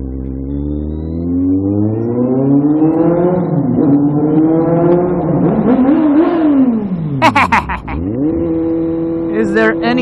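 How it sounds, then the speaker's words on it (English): A Kawasaki Z750 motorcycle engine revs hard in a loud rev bomb, pitch climbing through repeated sweeps, dropping sharply, then rising again, with brief bursts of other sound near the end. "Is there any better way to start your first motovlog than with a rev bomb?"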